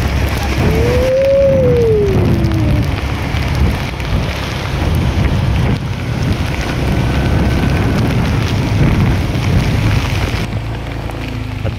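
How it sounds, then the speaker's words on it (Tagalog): Heavy rain pours down steadily during a ride on a Honda Click scooter through flooded streets, a dense continuous wash of drops and wind roar with a brief rising whistle-like tone early on and no talk. "grabe, lakas ng ulan."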